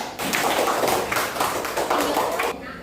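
Classroom group of students applauding together for a fellow team, a dense steady burst of many hands clapping at close range that runs for a few seconds and then stops abruptly.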